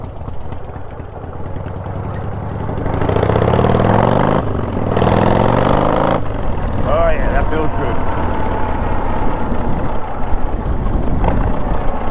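A Harley motorcycle engine runs steadily throughout, a low continuous rumble that swells louder in the middle as the bike revs, with someone talking over it.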